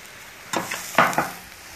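A spoon stirs Central Asian pilaf of rice in a hot pot, with three short scraping strokes over a low sizzle, close and fairly quiet, no talking.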